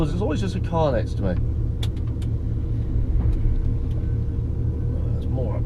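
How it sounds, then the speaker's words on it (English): A car runs close alongside on a road in Wales, a steady loud engine rumble and tyre roar filling the whole stretch, with faint background voices at the start. "there's always just a car next to me"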